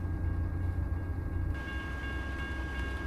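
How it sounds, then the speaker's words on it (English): Video game train rolling by in the Colorado and Mexican hills, a low distant rumble with a faint tonal horn-like hum, steady and quiet with no talking. "there's a train somewhere"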